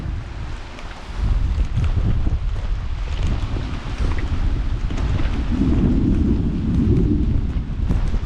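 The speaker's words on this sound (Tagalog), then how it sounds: "nasa atin na yung ulan" Heavy rain in a thunderstorm near a hut roars steadily, with rumbling low thunder, gusting wind buffeting the microphone and a swelling surge toward the end.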